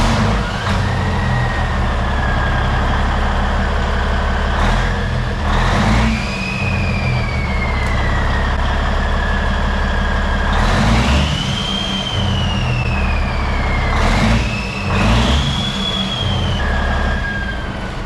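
A Kenworth T800 truck engine with new exhaust stacks runs steadily with a deep low rumble, surging several times as the revs climb and fall, with a rising whine on each pull, loud and close.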